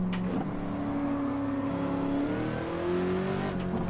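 Supercharged car engine in the Gran Turismo video game revving steadily, with a sustained rising engine whine held loud and continuous throughout, no voices over it.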